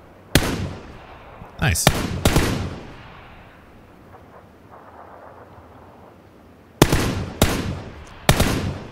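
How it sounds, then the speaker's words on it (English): M4 rifle fire in PUBG on the Miramar map: short bursts of sharp, loud reports, with a pair of shots early, a gap of quieter ambience, then three more cracks near the end, while a voice briefly speaks. "Good long shots with the M4 there."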